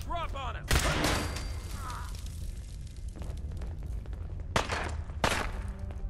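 Gunfire in Fallout 4 comes as loud, sharp blasts, one early heavy burst followed by a few more shots later, over a continuous game rumble.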